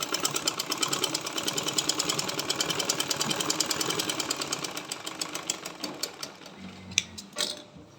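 A sewing machine stitches a folded half-inch hem for elastic, a steady close-up rapid clatter that runs for several seconds and then slows into separate stitches with a few clicks at the end, and nobody speaks.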